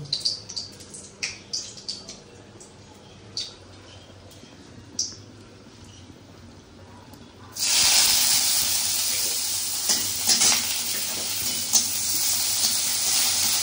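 Crushed garlic and dried red chillies hit hot oil, bursting into a loud, continuous sizzle after a few soft kitchen taps and clicks.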